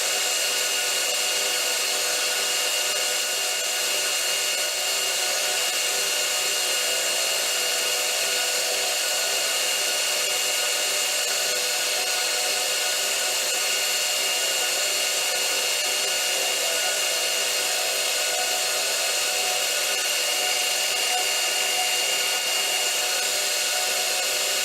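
A wood lathe turns slowly at 370 RPM with the workpiece offset in the jaw chuck, giving a steady, continuous motor whine with vibration that runs unbroken and fairly loud throughout.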